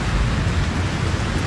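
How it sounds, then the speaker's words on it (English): Heavy rain pours down loudly and continuously during a violent storm, with a deep rumbling of thunder underneath, close and dense with no speech. "This is the craziest storm I've ever been in."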